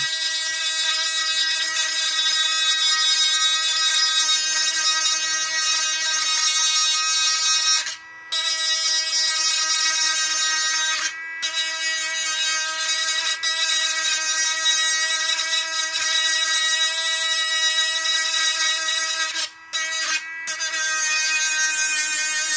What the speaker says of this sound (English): When you sand with this machine, it's pretty much flat.